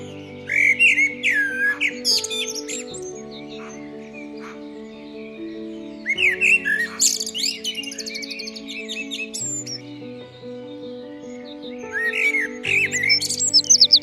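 Chirps and song phrases from a white leucistic common blackbird, heard in bursts of varied, fairly close calls over steady low tonal background hum, with quieter gaps between phrases.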